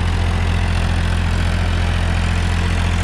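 A Powertrac Euro 50 tractor engine runs steadily while pulling a rotavator through a field, a loud, continuous low diesel drone with a strong rhythmic thrum, close by and with no voices.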